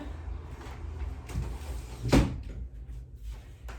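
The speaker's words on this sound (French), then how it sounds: "Juste me lever pour fermer la fenêtre" A window being shut indoors: a low rumbling slide followed by one sharp knock as it meets the frame, then quieter shuffling, with no talk.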